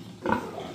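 A pregnant sow grunts once in a piggery, a single short, close, throaty grunt over faint background noise.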